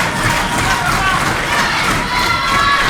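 Arena crowd at a live NJPW professional wrestling event in Auckland, cheering and roaring in a dense, steady wash of noise that holds loud and unbroken throughout.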